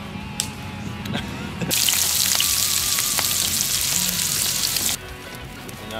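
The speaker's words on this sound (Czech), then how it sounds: "Takže můžeme jít smažit." Food cut into eight pieces sizzles loudly in a frying pan. The steady hiss starts abruptly, holds for about three seconds and cuts off, with faint clatter before and after.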